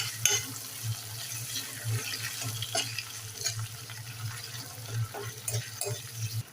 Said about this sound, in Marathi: आता आपण बारीक चिरलेला टोमॅटो घालूया थोडासा तो सुद्धा छान परतून घेऊया